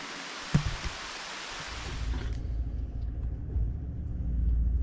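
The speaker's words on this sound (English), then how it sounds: "I didn't know it was gonna rain like this today." Steady rain falls outdoors during a pre-season deer scouting trip on public land. A broad, even hiss fills the first two seconds, then thins under a low rumbling, vehicle-like drone that builds toward the end.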